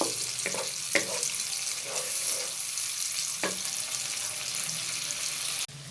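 Fish korma masala frying in a pan, a steady bright sizzle with a few spoon scrapes and stirring knocks, close and continuous before cutting off abruptly.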